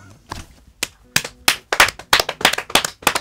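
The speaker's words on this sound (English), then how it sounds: "I've been getting everyone to clap every time" Hands clapping at an intimate music session, a run of sharp, close claps that starts sparse and quickens into an irregular rhythm, alone without talk.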